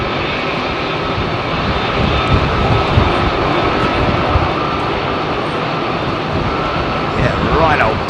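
An airliner climbs out after departing runway 27R at London Heathrow in blustery conditions, its engines giving a loud, steady roar that holds throughout with gusty wind noise mixed in.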